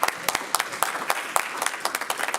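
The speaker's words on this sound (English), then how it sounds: "let's give Mr. Robbie a round of applause and his team." A small group at a city council meeting claps in distinct, close individual smacks with an irregular rhythm over a light background of hands.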